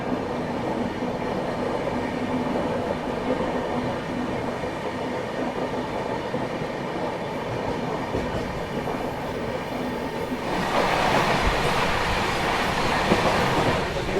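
Pune–Kolkata Humsafar Express passenger train running past Bhilai station without stopping, a steady rolling rumble of wheels on rails with clickety-clack that grows louder and brighter near the end.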